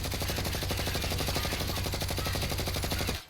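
Sustained full-auto burst from a Grau assault rifle fitted with a Monolithic suppressor, Archangel barrel and 60-round magazine in Call of Duty: Warzone, a rapid, even stream of loud suppressed shots lasting about three seconds before cutting off.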